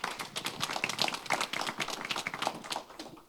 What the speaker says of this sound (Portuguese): Vamos aplaudir a Universidade do Estado do Pará,